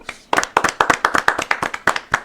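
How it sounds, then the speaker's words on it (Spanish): A short burst of group clapping, steady and fairly close, with no voices over it, lasting about two seconds. "Un aplauso para ellos."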